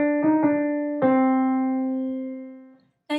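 Piano plays a short phrase in swung eighth notes: two quick notes, then a longer held note that rings and slowly decays, heard alone and close.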